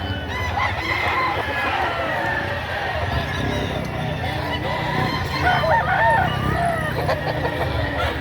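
Roosters crow and chickens cluck at a busy chicken market in Padre Garcia, Batangas, with several birds calling over one another amid steady crowd noise and people talking.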